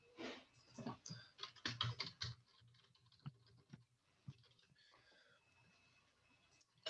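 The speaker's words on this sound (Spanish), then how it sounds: "mientras estoy tecleando esto" Code is typed on a computer keyboard in quick close bursts of clicking keystrokes, pausing briefly before a few sparser taps.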